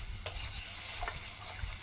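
Spice masala for a chicken curry fries and sizzles in a pan while being stirred, a soft continuous sizzle broken by a few brief scraping strokes, close and fairly quiet.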